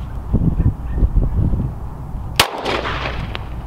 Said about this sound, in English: Oh, you're shooting the can?